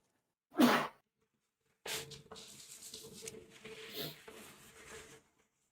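One sharp, loud human sneeze bursts out close by, then a pause before softer clattering and splashy background noise follows.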